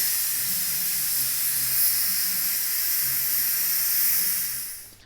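Pressure cooker releasing steam while cooking beef brisket for a Chinese brisket dish: a steady, loud, continuous hiss that runs unbroken for several seconds before tapering off at the end.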